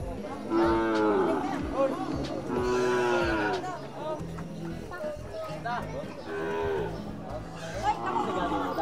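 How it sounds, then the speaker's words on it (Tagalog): Cattle moo repeatedly at a livestock auction market in Bagunbon, loud drawn-out calls rising over steady crowd chatter and murmuring voices. "Ganito po ang itsura ng livestock auction market dito po sa Bagunbon."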